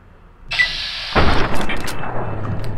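Hunting rifle fired in the video game Fallout New Vegas: a single sharp, loud blast followed by a rumbling, echoing decay, alone without talk.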